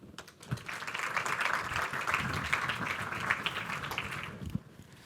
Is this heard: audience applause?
yes